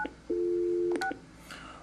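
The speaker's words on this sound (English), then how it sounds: "I just started to dial the wrong telephone number" Touch-tone keys sound on a Mitel 6900 series desk phone while placing an outside call during a transfer, giving a couple of short beeps and then one sustained tone, near and clear against faint background noise.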